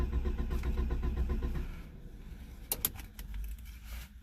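A single-cylinder engine cranks over in a steady, rapid chugging rhythm for nearly two seconds without catching, followed by a few sharp mechanical clicks and a low rumble.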